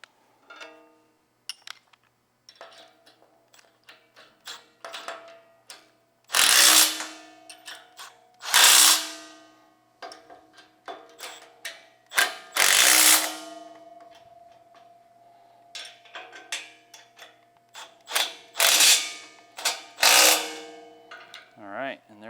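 Bolts being tightened on the brake assembly of a Tilmor 520 tractor with a hand ratchet, bursts of clicking pawl sounds separated by pauses, close and fairly loud, some louder clattering strokes.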